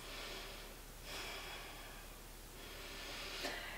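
Slow, deep breathing during a yoga pose, with two or three soft, breathy inhale-exhale swells close to the mic, quiet and unhurried over a faint room hum.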